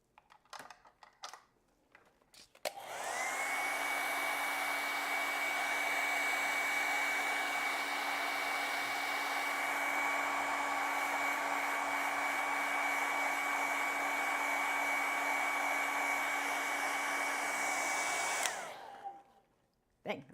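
A hair dryer drying white and black acrylic paint on a painting runs as one loud, steady whirring blast for about sixteen seconds, switching on and off abruptly, close by and with no talking over it.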